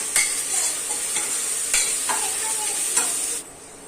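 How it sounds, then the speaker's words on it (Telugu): Ginger-garlic paste being stirred into onions frying in a pan for coconut milk biryani: a steady loud sizzle with several sharp scraping strokes of a spoon, then the sizzle drops off near the end; no talking. "అల్లం వెల్లుల్లి పేస్ట్ వేసిన తర్వాత వాసన ఎంత బాగా కదా వేసుకొని ఒకసారి కలిపేసుకోవాలి"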